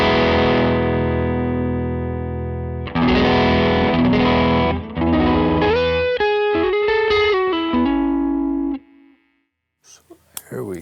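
Electric guitar played through a Throne of Tone dual-sided overdrive pedal on its boost side at a low gain setting, with sustained chords and then single-note runs, mildly driven and loud, ending in near silence with a few faint scratches.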